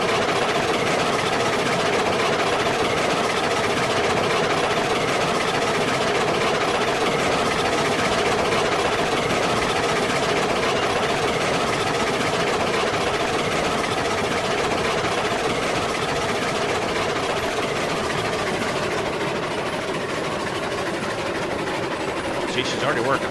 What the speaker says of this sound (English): What an amazing train this is.